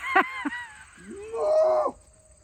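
A voice imitates a dying cow's bellow with a short yelp, then a long, drawn-out, wavering low moan that swells and fades out.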